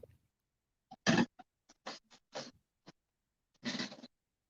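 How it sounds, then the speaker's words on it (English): A pet cat meows indoors in a series of short, separate calls, with one longer meow near the start and another near the end, fairly faint and with no talk over it. "Oh, it's a kitty cat."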